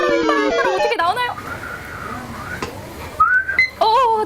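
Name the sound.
whistling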